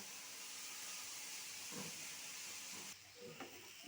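Grated carrots frying in a pan for carrot halwa, giving a steady soft hiss and low sizzle throughout, with a brief stir and clatter near the end.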